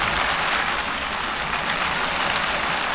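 Rain pouring steadily outside a kitchen window in the countryside, a dense, even hiss of drops on surfaces, continuous and fairly loud with no voices.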